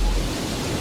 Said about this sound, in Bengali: ঝোড়ো হাওয়া ছুটছে।